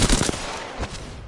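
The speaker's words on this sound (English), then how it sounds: "Shots fired." Video game gunfire rattles in a rapid burst of automatic shots, loud and dense, filling a short moment.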